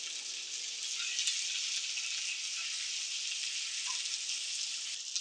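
Homemade kofta sizzle in hot oil with a soft, steady, close hiss that holds evenly throughout, with occasional light pops and no talking.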